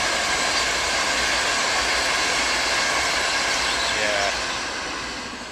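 A big train rolls past up close, a loud, steady broadband rumble with rail and wheel noise that holds throughout and eases slightly at the end.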